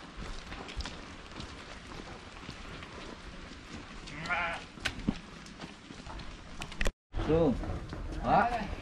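Goats bleating from a goat pen in a village, several wavering bleats rising over a rainy, busy outdoor background, with someone talking throughout.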